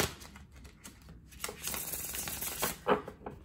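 Soft riffling and shuffling of tarot cards nearby, a continuous papery rustle with a few louder flicks toward the end.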